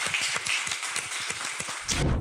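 An audience gives a founder a round of applause: a steady wash of many hands clapping, fairly close and continuous for a couple of seconds, with no voices on top.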